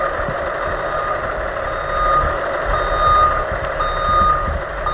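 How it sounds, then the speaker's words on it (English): Minibus reversing beeps sound as repeated, evenly spaced electronic tones over a steady engine idle, loud and near, with no voices. "you will put the bus into reverse"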